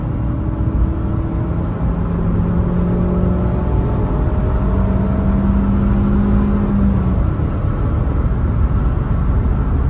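A Ford Fiesta Zetec-S engine hums and rises in pitch as it accelerates, heard from inside the car as a steady loud drone with shifting gear tones.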